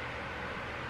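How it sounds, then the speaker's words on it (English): An electric fan runs indoors as a steady, even whoosh of broadband air noise, constant and unchanging throughout, with no other distinct sounds on top. "sorry if you hear my fan in the background."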